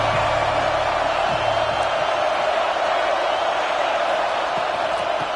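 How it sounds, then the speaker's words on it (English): A football stadium crowd at a Texas versus Tennessee game gives a steady, broad roar of noise, distant and unbroken for several seconds. "This crowd bringing the energy and noise early."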